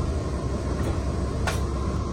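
A passenger train pulls away, heard from a seat inside the carriage, as a steady low rumble and rolling hum. A couple of brief hissing bursts cut through, with no voices.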